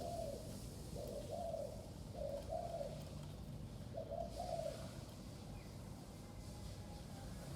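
A Thai zebra dove kept for bird trapping coos in a series of short, soft, rolling phrases, repeated at a steady pace over a constant background hiss.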